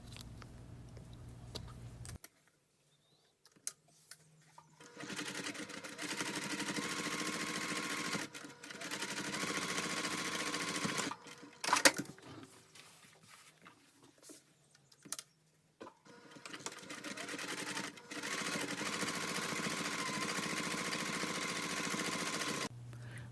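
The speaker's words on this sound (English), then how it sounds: "Baste the raw edges together and top stitch the folded edge." Sewing machine top stitching the folded edge of a basted lining pocket for a bag, running in several bursts of steady mechanical whirring separated by short pauses, close and fairly loud, with no talking.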